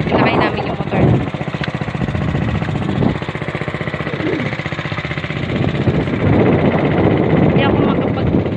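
A motorcycle engine runs steadily on a rough rural road near a farm, a droning mid-pitched hum that is loud and continuous, with wind rumble and bumps mixed in.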